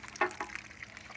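Ducks drink from a water dish with a few quick, soft splashes and dabbling drips, one slightly stronger slosh among brief faint wet sounds.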